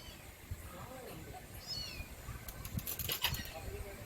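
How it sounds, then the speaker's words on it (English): Faint, high kitten meows, two or three thin cries, rise over a steady background hiss with soft voices murmuring nearby. "you can kind of hear it meowing actually"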